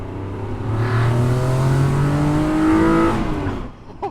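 A Mazda MX5 with a swapped Jaguar V6 engine accelerates hard, its throaty note rising steadily in pitch through a gear change before easing off, close and loud with no voices.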